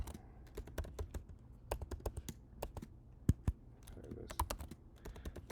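Computer keyboard keys clacking in quick irregular bursts, close and crisp, with one sharper press standing out partway through as the tab key is struck, no voices.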